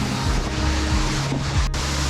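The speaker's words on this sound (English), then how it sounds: "all the other beauty is just overshadowed by this gorgeous waterfall" A waterfall in Kyushu, Japan roars in a continuous, loud wash of rushing water that masks everything else, steady throughout with a little low wind rumble, no voices.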